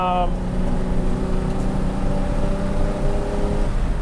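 A Ferrari 330GTC in third gear produces a steady, droning engine hum inside the cabin, with a voice talking over it throughout.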